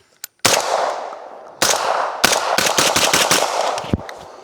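A Vepr 12 short-barrel shotgun firing Herters shells at a range: a string of loud, close blasts, several in rapid succession with echoing tails between them, and no talking.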